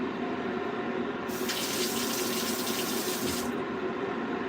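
Water running from a tap into a sink while something is rinsed, a bright, close splashing rush that starts abruptly, holds for about two seconds and cuts off, over steady background hum.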